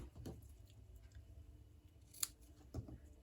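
Scissors trim a small paper piece for a handmade card, a faint opening snip followed by two crisp close cuts a half-second apart, quiet and alone without talk.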